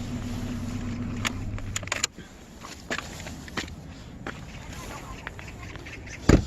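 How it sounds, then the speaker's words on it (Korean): A 1994 Kia Potentia with its engine idling as a quiet, steady low hum for about two seconds, then giving way to soft clicks, taps and handling noises, ending with a sharp knock. "지금 시동이 걸려 있는데 상당히 조용하죠"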